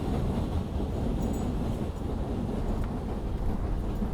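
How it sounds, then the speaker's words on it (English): An elevated train in the Bronx passes overhead as a continuous heavy low rumble and roar that holds steady throughout, with no talk. "The train is going above us now"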